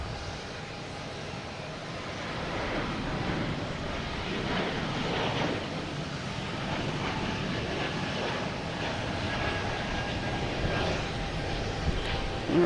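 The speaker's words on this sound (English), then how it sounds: "JetBlue taking off to Syracuse" JetBlue jet airliner taking off from Boston Logan for Syracuse gives a steady broadband engine roar at moderate distance, swelling slightly and holding throughout with light wind noise.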